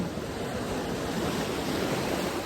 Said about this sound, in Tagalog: Hinampas ng alon.